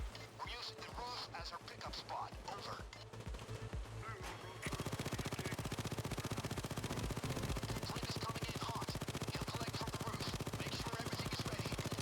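Automated turret in a video game firing a dense, rapid stream of shots that starts abruptly partway through and continues loud and steady to the end, with game sounds and voices underneath.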